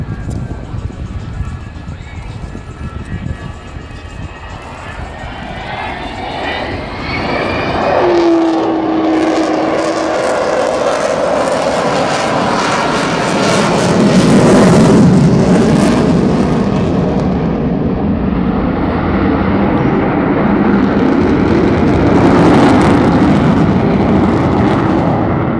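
An Avro Vulcan jet bomber with Olympus two-shaft turbojets flies a display at the Yeovilton air day, its roar swelling and holding loud and rumbling, while a commentator talks over it.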